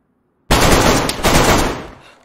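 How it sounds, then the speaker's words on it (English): Gunfire in the video game DayZ: a sudden loud burst of rapid shots that begins after a moment of silence, with a second crack in the middle and a long rumbling tail fading out. "Hearing shots like far in the distance."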